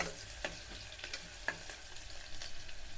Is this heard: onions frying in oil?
yes